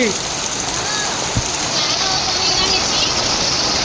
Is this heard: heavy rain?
yes